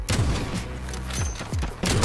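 Rapid gunfire from a multiplayer match in Call of Duty Modern Warfare, a few sharp bursts and low booms close up over game ambience in a short stretch.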